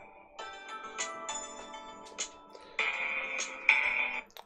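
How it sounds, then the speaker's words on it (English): A phone ringtone plays for an incoming call, a bright tonal melody in repeated bursts that pauses and then resumes more loudly, with no speech over it. "Of course, I get a phone call right when I'm doing this."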